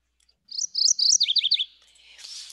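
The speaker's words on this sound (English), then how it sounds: "Almost like it's saying cherry, cherry," A warbler sings a quick, bright series of high chirping notes, clear and close, then a brief burst of soft hiss.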